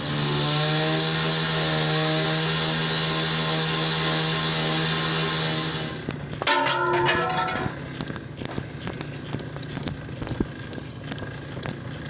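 Power tool tightening bolts, a steady loud high-pitched whine running for about six seconds before cutting out, followed by quieter metallic clanks and handling noises nearby.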